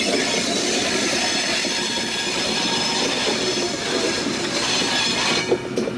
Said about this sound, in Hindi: और 40 डाउन जाफर एक्सप्रेस भी आ चुकी है। लोकोमोटिव नंबर 6426 ZCU20 के साथ।